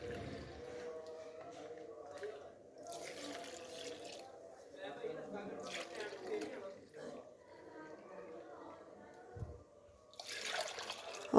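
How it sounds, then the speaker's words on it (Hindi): Milk poured into semolina in a bowl gives a soft, faint liquid trickle and splash in short bursts, heard under a voice speaking throughout. "ये दूध लिया है और दूध को डालते हैं इसमें, सूजी में"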